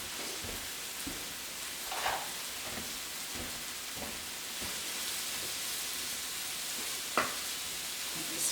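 Frittata ingredients sizzle steadily in a non-stick skillet while a wooden spoon stirs them, sending occasional soft knocks and scrapes through a constant hiss of frying, with no talk.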